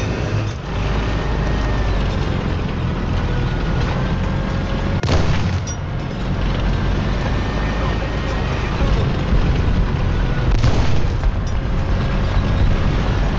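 A tank video game: two heavy cannon booms go off several seconds apart over a constant rumbling engine drone, while a player talks throughout.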